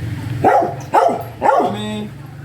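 A dog barks three times in quick succession, loud and close, each bark a deep gruff burst with brief pauses between them.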